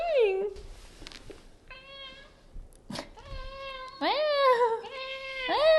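A cat meows several times, drawn-out rising and falling cries close by, with short gaps and faint noises between calls.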